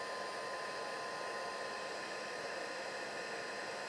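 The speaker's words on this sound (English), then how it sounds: "And then again, I'm going to take my heat tool and dry this." A heat tool blows hot air to dry watercolor stamping on paper, a steady close whooshing roar that holds unchanged throughout with no voices.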